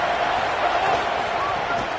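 A home crowd roars steadily at an American college football game, a dense, continuous wash of stadium noise with no breaks, with a commentator's voice running over it.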